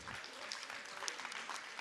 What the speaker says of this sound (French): On les applaudit vraiment bien fort